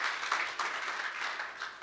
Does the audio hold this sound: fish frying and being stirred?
no